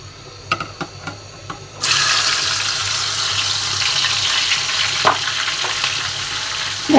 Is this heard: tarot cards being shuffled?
no